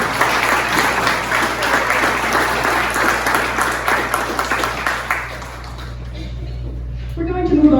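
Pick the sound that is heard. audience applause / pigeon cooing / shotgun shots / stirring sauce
audience applause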